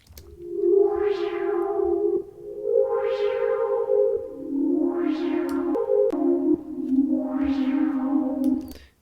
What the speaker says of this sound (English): let's just add in some reverb, give it a little bit of space